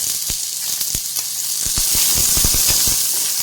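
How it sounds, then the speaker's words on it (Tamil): Small onions sautéing in oil already used to fry chillies sizzle with a steady close hiss, broken by crackling pops and spatters, with no voices. "இப்போது மிளகாய் வதக்கின எண்ணெயிலேயே வெங்காயத்தை போட்டு வதக்கிக்கலாம்."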